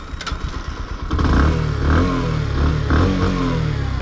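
A 2021 Bajaj Platina 110 ABS commuter motorcycle's engine revs up through its exhaust, a close, loud, throbbing idle swelling into several repeated throttle blips.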